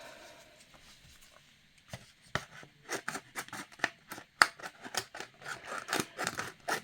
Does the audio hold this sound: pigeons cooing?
no